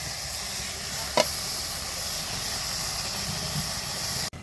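Puti fish curry with tomato sizzling steadily in a pan, a soft continuous frying hiss with one brief sharp clatter of stirring near the start.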